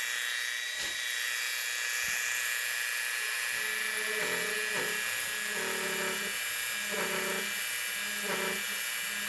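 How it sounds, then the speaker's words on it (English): A drill bit enlarging a hole in resin or plastic, a close high whine that runs steadily while the bit takes short repeated nibbles, heard as a pulsing series of bursts in the second half. "I'm not running the bit too fast. I don't want to overheat the resin or plastic,"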